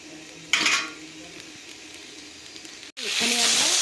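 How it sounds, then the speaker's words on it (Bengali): Cut, washed potatoes go into hot oil: a brief utensil clatter, a quiet stretch, then a sudden loud sizzle that keeps crackling steadily, with a voice faintly underneath. "এখানে আমরা আলুগুলোকে ভেজে নিচ্ছি"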